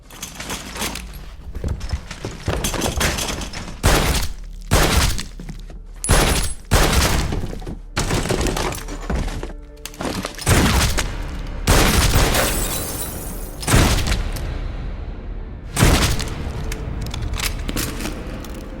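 A German action-movie shootout delivers loud, sharp gunshot bursts, some spaced apart and others in rapid clusters, punctuated by crashes through a tense scene.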